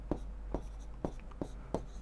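Writing a statement on a board during a maths lesson, five evenly spaced tapping strokes of chalk or marker, fairly faint against a low background hum.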